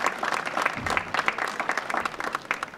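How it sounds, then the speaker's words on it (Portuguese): Applause from an outdoor crowd at a village festival parade in Doze Ribeiras, scattered, uneven clapping with a few sharper claps standing out over a continuous patter. "Mais uma salva de palmas para esta representação das Doze Ribeiras."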